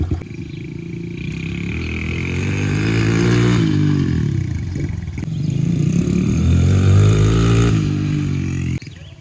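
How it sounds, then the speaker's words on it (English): A Honda CRF100 dirt bike fitted with a NOS kit is revved at full throttle, its engine rising in pitch, dipping at a gear change, then climbing again, loud and close with no talk. "I'm gonna go, I think, second or third gear, and I'm gonna floor it right across here."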